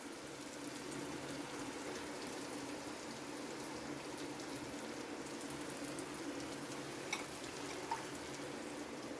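Faint water washing turmeric off a stone grinding slab into a bowl, a soft steady trickle and splash with a couple of small drips near the end, alone without talk.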